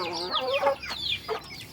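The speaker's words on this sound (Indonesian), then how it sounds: "ayam-ayam kampung yang ada di kebun." Free-range village chickens cluck in a garden in the late afternoon, a few short, close, moderately loud clucks and calls in quick succession with no other sounds around them.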